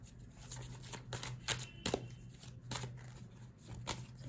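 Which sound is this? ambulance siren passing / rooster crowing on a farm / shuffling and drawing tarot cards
shuffling and drawing tarot cards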